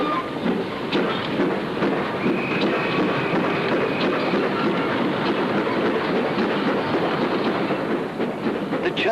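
A 1950s British passenger train pulls out of a station platform: a continuous rolling rumble with faint wheel clatter, steady and fairly close throughout, with no voices.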